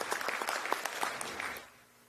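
Audience applause at a Prince Hall Slavery Remembrance Day program, a short burst of scattered clapping heard from a distance that fades out and stops within about two seconds.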